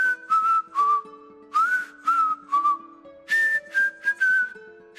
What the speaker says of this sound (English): Want me to whistle us a little tune while we run?